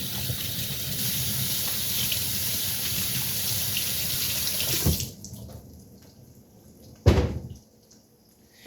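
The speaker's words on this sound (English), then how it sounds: "I'm gonna rinse my hands." Water runs steadily from a kitchen sink tap as hands are rinsed, a loud continuous broadband rush that cuts off abruptly, followed by a quiet room and a single sharp knock or thud.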